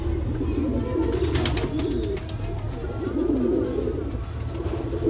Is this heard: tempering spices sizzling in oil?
no